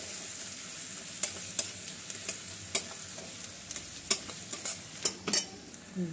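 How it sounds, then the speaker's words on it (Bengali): Chopped onion and minced garlic fry in a pan for gravy chilli chicken, giving a steady soft sizzle under a run of sharp spatula scrapes and taps against the pan. No one speaks. "রসুনের সঙ্গে পেঁয়াজ চপ করে রেখেছি, এটাও দিয়ে দিচ্ছি। এটাকে একটু ফ্রাই করে নেব"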